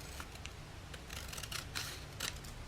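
Scissors snip through paper for a birds-and-butterflies craft journal, a few crisp close cuts in quick succession over a soft background hiss.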